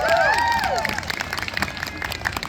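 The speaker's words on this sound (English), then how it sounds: "Let's give him a big round of applause." An audience applauds at a karate school demonstration in Sun Prairie. Scattered clapping continues steadily under a high, whooping voice near the start.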